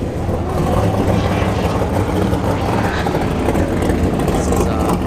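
A first-generation Camaro and a Tesla Model S Plaid at a drag strip test-and-tune session, heard as a loud, steady wash of engine roar and whirring that fills the whole stretch, with a faint voice under it.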